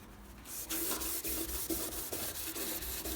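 A red Scotch-Brite pad scrubs a car panel during colour-change prep, producing a continuous raspy rubbing with rhythmic back-and-forth strokes, close and fairly quiet.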